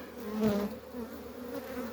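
Honeybees hum in a dense, steady buzz at a hive, close and fairly soft throughout.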